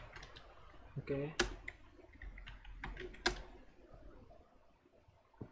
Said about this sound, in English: let me type my password